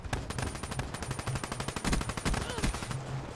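Rapid, sharp bursts of gunfire in the video game Call of Duty Black Ops 3, a dense string of shots cracking over roughly three seconds with brief gaps, loud and close.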